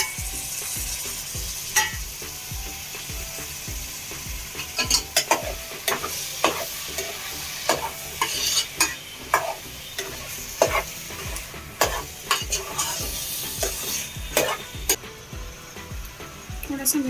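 Onion and tomato for pav bhaji fry in a pan under a steady sizzle, with sharp, irregular scrapes and clacks of a stirring spoon throughout.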